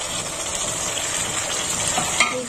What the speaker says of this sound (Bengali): এই পেঁয়াজটাও একটু ভাজা হবে।